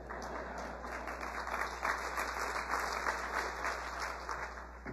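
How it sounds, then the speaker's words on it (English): Audience at a county State of the County address breaking into sustained applause, a steady wash of many hands clapping at moderate distance with no voices over it. "That's right, you can applaud that."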